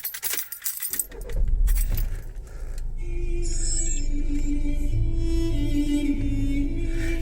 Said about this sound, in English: I better start the car up and get the air conditioning on.